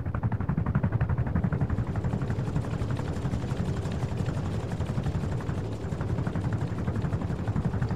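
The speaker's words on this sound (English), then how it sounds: "Is that a helicopter? That's a fucking helicopter, dude." Helicopter in the Rust video game flies overhead, a steady loud rotor thrum with rapid chopping pulses lasting throughout, no talking.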